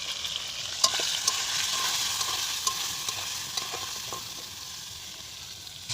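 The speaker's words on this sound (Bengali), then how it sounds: "তেলটা গরম হয়ে গেছে, আমি পটলগুলো ছেড়ে দেবো। পটলে আমি এখন লবণ আর হলুদটা দিয়ে নেড়ে করে নিই" Pointed gourd pieces frying in hot oil with salt and turmeric, giving a steady close sizzle with a spatula scraping and stirring through it and no voices.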